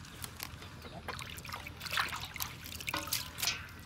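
Water splashes and trickles over vegetables being rinsed for a chicken black soup, a close, steady wet dribble with uneven bursts throughout.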